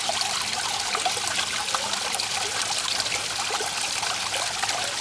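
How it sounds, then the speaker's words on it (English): Steady trickle of water filling a garden pond being rebuilt, a continuous close splashing flow that holds even throughout with no voices. "Just let that fill up with water."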